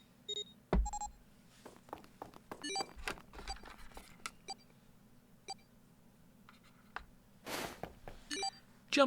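Keypad beeps in the video game 999, short electronic tones scattered irregularly over a low hum, with a few sharper clicks and a burst of noise near the end.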